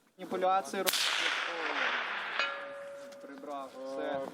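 A single sharp sniper rifle shot at a youth military training exercise cracks out and rings into a long echoing decay, with people talking just before and after.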